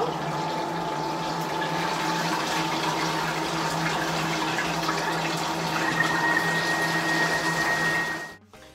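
A Monsieur Cuisine Connect food processor mixes quiche lorraine filling at speed 4, giving a steady, loud motor whir with a sloshing, liquid churn that holds evenly for about eight seconds before cutting off abruptly.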